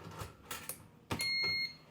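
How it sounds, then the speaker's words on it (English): A few soft clacks and taps, then a waffle maker, pressed down fully, gives a single steady electronic beep for about half a second, clear and close. "mine beeps to let me know that we press it down all the way"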